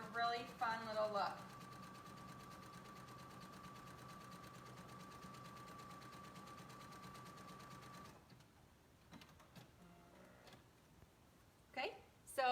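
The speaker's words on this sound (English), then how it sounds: "I'm zigzagging right on the edge, and I'm stretching out the fabric" A sewing machine runs a zigzag stitch along a stretched fabric edge, making a steady, even hum for several seconds. Quiet speech comes before and after it.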